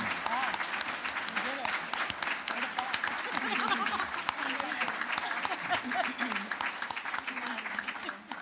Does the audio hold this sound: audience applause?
yes